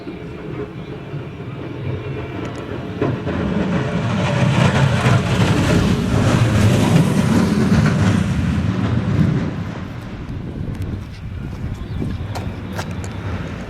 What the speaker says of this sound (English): a bobsled's about to come down the track here in a few seconds